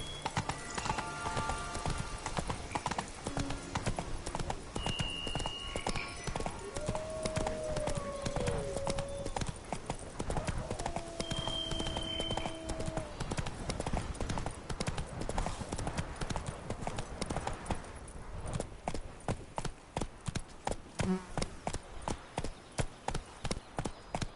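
A horse's hooves clip-clop at a steady trot in the Witcher 3 Blood and Wine game, rhythmic and close throughout, with a faint whinny and brief game voices over the hoofbeats.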